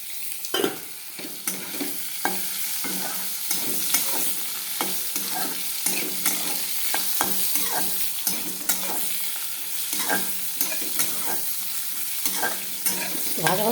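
Papaya and potato stir-fried in a pan, a steady sizzle broken by frequent scraping and stirring clicks for about fourteen seconds, close and fairly loud with no talk.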